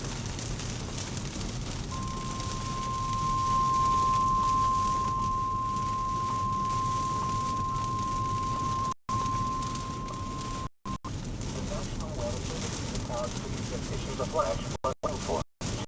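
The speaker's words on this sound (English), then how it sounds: "Absolutely torrential rain." Torrential rain pours down steadily during a tornado storm chase in Wisconsin, a dense continuous roar heard from inside a vehicle, with a long steady electronic beep partway through and occasional brief dropouts.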